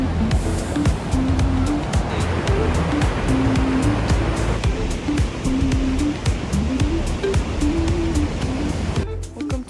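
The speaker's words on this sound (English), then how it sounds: "Welcome to the Rheinfall in Switzerland." Rhine Falls in Switzerland, a powerful waterfall, pours in a loud continuous roar of rushing water heard close up, with a low engine hum and a brief tonal whine running underneath.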